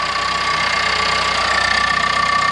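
A 2022 Ford Explorer EcoBoost engine, fitted with a Whipple upgrade, idles with a loud, steady ticking from its GDI fuel pump, a close, continuous mechanical clatter over the engine hum with no talking.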